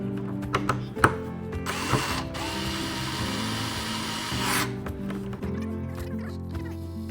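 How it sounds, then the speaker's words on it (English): A power screwdriver whirs in a steady burst of a couple of seconds as it drives an M5 by 35 screw during a telescope build. Clicks and handling knocks come before and after it. "We're going to take our power screwdriver to make things go a little faster."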